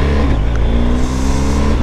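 A motorcycle in first gear coasting with the clutch pulled in on city streets, giving a steady, loud low engine drone with a continuous rumble throughout.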